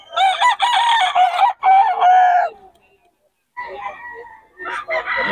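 A Boston Gilmore gamefowl rooster crowing loudly and close, two long strained crows in a row, then a pause and more clucking calls at a market.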